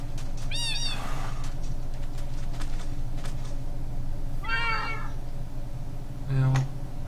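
Meows from a cat in the Minecraft video game rise high, with a clear cry near the start, a second about midway and a short one near the end, over a steady low hum.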